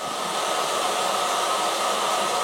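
A hair dryer runs steadily and loudly throughout, a constant broadband whoosh with no other sounds and no talking.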